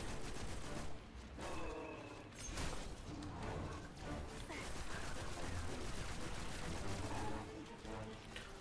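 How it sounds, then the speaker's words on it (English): Assault rifle fire in the video game Destiny, a steady stream of rapid shots and impacts rolling on throughout, fairly loud and dense with layered combat noise. "Assault rifle."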